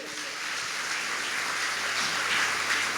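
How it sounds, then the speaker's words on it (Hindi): Worship service audience clapping together in a steady, dense wash of applause that holds at an even level throughout, with no voices standing out. "ताली बजाइए।"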